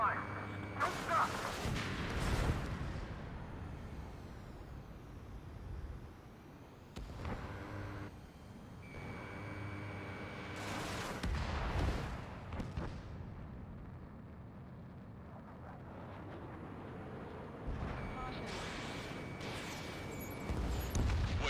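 Multiple enemy tanks fire in Ace Combat 7, with heavy booming blasts and explosions bursting at irregular intervals over a constant rumbling battle backdrop, some near and loud, others more distant.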